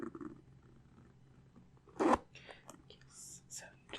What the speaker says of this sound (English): so you just unzip and slip your foot in